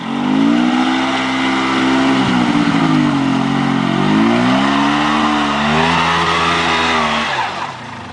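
A quad bike engine revs hard and loud for the whole stretch, its pitch climbing and dipping in repeated surges of acceleration, with no voices standing out.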